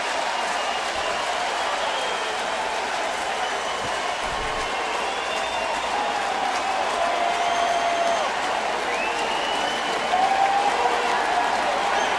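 Large baseball stadium crowd roaring after back-to-back Tigers home runs, a dense, steady wash of cheering and applause with a few whistles rising above it.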